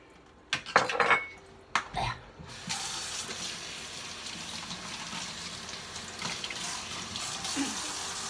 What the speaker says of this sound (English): Time to do the final rinse of the fabric.